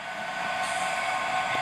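Diesel locomotives of a DB Cargo top-and-tail Sandite railhead cleaning train running with wipers on, giving a steady, loud broadband rumble with continuous rail noise; any individual wiper clunks are not clearly separable.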